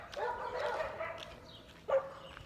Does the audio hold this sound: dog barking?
yes